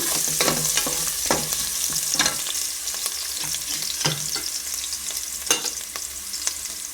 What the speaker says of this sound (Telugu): ఇలా ఫస్ట్ అల్లం అల్లం ముక్కలు ఒక్కసారి ఒక వేసి వేపేసుకొని